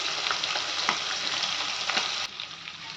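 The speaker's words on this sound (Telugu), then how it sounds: "ముక్కలు ఎలా ఫ్రై అవుతున్నాడు" Dried seer fish pieces frying in a pan, a steady close crackling sizzle that drops slightly near the end, with no voices.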